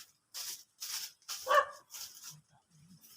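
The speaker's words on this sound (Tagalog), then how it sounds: "Aso doon." A dog barks outdoors in a series of five or six short, fairly distant barks at a steady rhythm, with faint low sounds between them.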